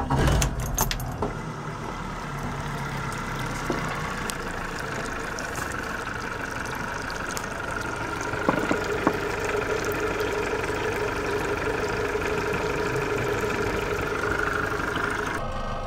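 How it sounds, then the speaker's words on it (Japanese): A Yamaha FR23-II boat's four-stroke engine cranks and catches, then settles into a steady idle with rattling and mechanical clatter. "それではエンジンをかけてみましょう。"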